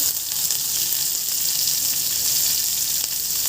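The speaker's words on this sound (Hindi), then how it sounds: "लहसुन हमारा भून चुका है। उसमें 3-4 हरी मिर्च को डाल देंगे" Green chillies added to oil with already fried garlic sizzle and fry steadily, a close, even crackling hiss throughout with no talking.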